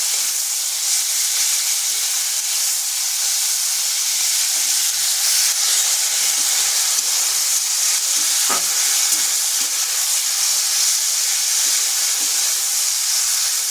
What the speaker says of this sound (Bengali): বরবটিগুলো হালকা একটু ভেজে নেব যাতে তার কাঁচা গন্ধটা চলে যায়।